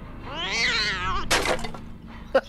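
A cat lets out one long, wavering meow, followed by softer rustling and a sharp brief knock near the end, all close and clear with no talk.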